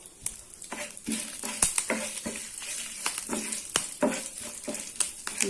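Onion, curry leaves and tamarind for thokku roasting in a pan, with a constant close sizzle and frying crackle broken by repeated scrapes and stirring taps of a spoon against the pan.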